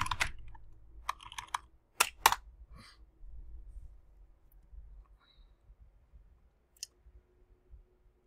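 Typing a search on a computer keyboard, a few quick bursts of close key clicks with pauses between, quiet room, no talk.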